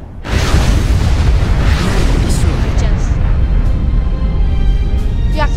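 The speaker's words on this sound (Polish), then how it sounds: "Bomba atomowa wybuchła." An atomic bomb detonating in the strategy video game Supreme Commander, a loud, sustained roaring boom that swells in quickly and rumbles on steadily, with faint higher crackles later.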